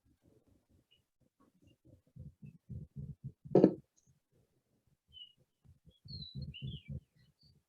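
A barred owl gives a series of low, rhythmic hooting notes in two bursts, fairly faint, with a sharp louder note in the middle and a few thin high chirps late on.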